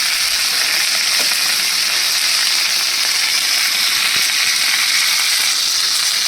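Spices with salt, turmeric and a little sugar fry in a hot pan, giving a loud, steady, unbroken sizzle throughout with no talking.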